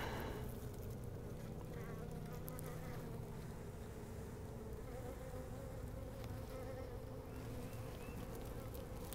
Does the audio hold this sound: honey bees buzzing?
yes